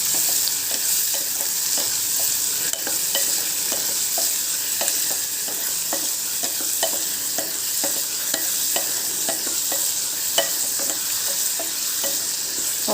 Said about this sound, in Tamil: தக்காளியை போட்டு நல்லா வதக்குறோம்.